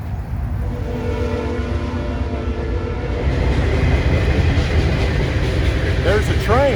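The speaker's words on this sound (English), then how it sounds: "There's a train." A train passes with a steady low rumble and rail clatter, loud and continuous throughout, with a squealing whine near the end; people talk over it.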